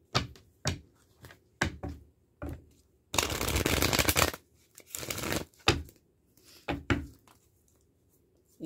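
Tarot cards being shuffled and handled, with short flicking snaps spaced apart and a longer dense riffling burst in the middle, close and fairly quiet with no talk.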